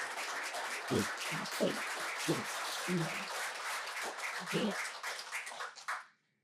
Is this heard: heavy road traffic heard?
no